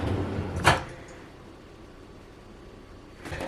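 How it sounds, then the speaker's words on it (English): Pantry drawer fitted onto newly installed rails gives a sharp knock early on, a quiet pause, then a softer rumbling slide near the end. "Okay, both rails are in. Moment of truth. I will be installing the drawer."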